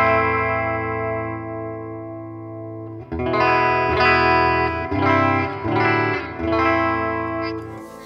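Duesenberg Starplayer TV electric guitar on its humbucker pickup through effects: a sustained chord ringing with chorus and echo, then strummed distorted chords in a loose rhythm, loud and upfront with no talking.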